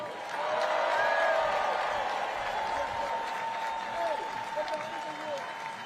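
Crowd at a Labor Day rally cheering and applauding, a sustained wash of clapping with whoops and whistles, steady and moderately loud, with some voices shouting inside the noise.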